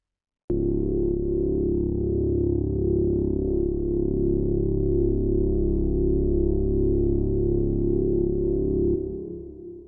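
Sustained u-he Diva software synthesizer tone drenched in reverb, a steady thick drone with shimmering upper harmonics that holds for about eight seconds and then fades out, with no talking.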